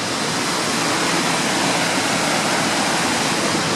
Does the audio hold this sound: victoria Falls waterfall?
yes